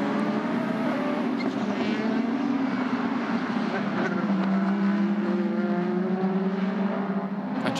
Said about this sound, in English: just taking any line they wish and accelerating out of the corners